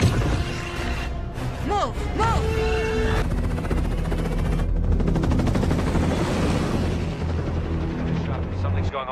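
Loud, sustained battle noise from an action film, with dense gunfire, heavy booms and a whining mechanical drone running throughout, while a voice briefly calls out over the din.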